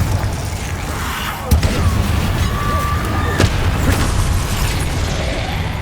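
Confringo fire spell detonating in Hogwarts Legacy on PS5: one sharp, loud blast about a third of the way in, with a smaller pop later, over continuous game ambience.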